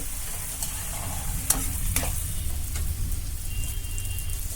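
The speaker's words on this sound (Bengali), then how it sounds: "উচ্চটা ভাজা হয়ে গেছে তুলে নেবো" Food sizzles and crackles steadily in a hot pan, with a few sharp clinks of a utensil against the pan.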